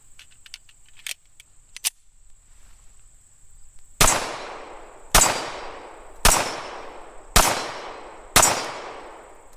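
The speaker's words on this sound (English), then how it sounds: "And last up, as I said, 5 rounds of the 230 grain Federal Hydra-Shock ammo." Five sharp, loud shots from a Tisas 1911A1 pistol firing 230 grain Federal Hydra-Shock hollow points, evenly spaced about a second apart, each followed by a short decaying echo, after some faint metallic clicks.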